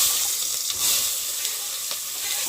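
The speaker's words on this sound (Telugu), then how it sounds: "ఇప్పుడు అయితే ఆనియన్ క్యారెట్ పచ్చిమిర్చి టమాటా దీంతో వేసేసుకున్నాం ఆయిల్" Onion, carrot, green chili and tomato fry in hot oil with a steady, close hissing sizzle that continues throughout, joined by a few soft stirring clicks and no voices.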